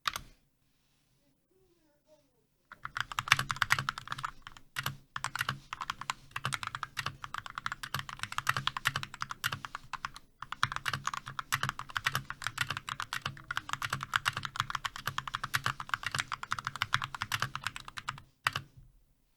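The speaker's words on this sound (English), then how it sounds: "And that is how the keyboard sounds." Rapid typing on a custom-built mechanical keyboard, close and crisp, a dense stream of clacky keystrokes with short pauses between bursts, heard alone after a quiet opening.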